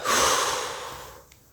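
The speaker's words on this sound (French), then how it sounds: "prenez une bonne inspiration par le nez et soufflez fortement par la bouche pour vous dynamiser" A single deep breath is drawn in through the nose and then pushed out forcefully through the mouth during a sophrology exercise, close and breathy, fading away over a second and a half.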